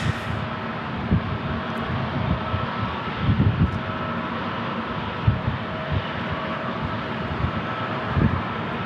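A Delta Airbus A321neo airliner at San Diego International Airport gives a steady, moderately loud engine roar, with uneven low rumbles and wind buffeting at the microphone.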